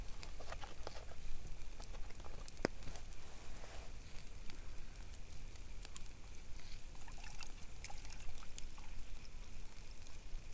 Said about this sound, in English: Zero Sugar Strawberry Watermelon drink mix there. I'm only going to use about half of it.